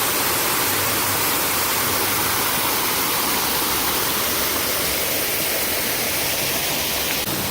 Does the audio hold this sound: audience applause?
no